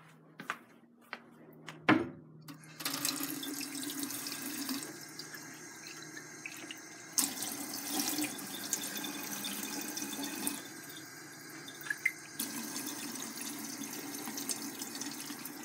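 A household tap runs into a sink, the steady gushing water starting after a couple of clunks and stopping and restarting several times, close and fairly quiet.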